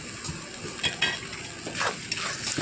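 Pointed gourd curry with mustard and spices frying in a pan, a steady sizzle with repeated spatula scrapes and stirring clatter close by, no talk.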